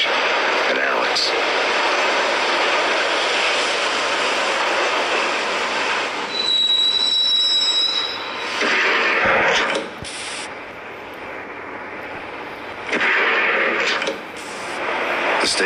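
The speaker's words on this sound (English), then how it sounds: "the train doors had already shut behind me, and I was in for the ride" Train riding on rails in the Max Payne video game, a loud continuous rumble of wheels on track with metallic squealing tones and surges in intensity, no voices over it.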